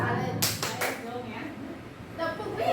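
A children's colour-counting clapping game in a class: a few quick bursts of hand claps, close and moderately loud, with voices talking between them.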